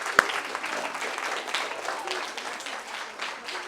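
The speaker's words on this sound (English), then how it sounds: "A round of applause, please, for my friend Neil." Audience applause for a performer named Neil at a rocket science talk, a steady wash of many hands clapping at moderate level with no talk over it.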